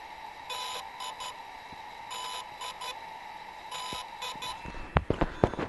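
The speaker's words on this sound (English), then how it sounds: "the tone has changed to basically a single beep, pause, and then two quick beeps." A DJI Inspire drone signals a completed firmware update with a repeating pattern of short electronic beeps, one beep, a pause, then two quick beeps, faint against a background hiss, followed by a few soft handling knocks.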